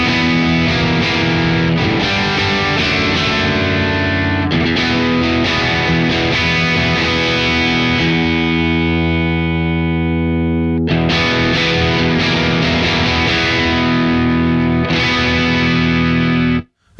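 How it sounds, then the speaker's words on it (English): Electric guitar through a Friedman Twin Sister amplifier playing sustained, ringing chords with an open, full tone and effects, loud and continuous, with a couple of fresh strums and a sudden stop at the end. "It's a great sounding amplifier, super just open sounding."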